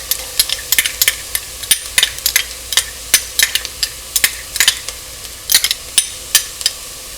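Garlic added to golden brown onions frying in a pot for vegan lentil tortilla soup, with a steady soft sizzle under repeated sharp clicks and scrapes of a utensil stirring, close up.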